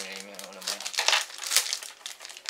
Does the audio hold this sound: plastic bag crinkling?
yes